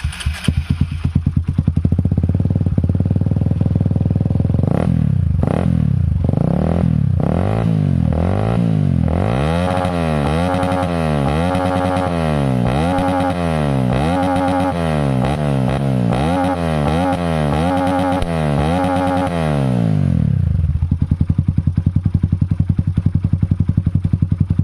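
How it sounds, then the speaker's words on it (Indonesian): A Honda CB150R motorcycle with a 180cc bore-up, stroke-up engine, modified as a supermoto, idles, then revs up and down repeatedly in loud close bursts before settling back to a rough idle, with no talk. "180cc udah bore up dan stroke up. Ini kita tes dulu mesinnya gimana ya."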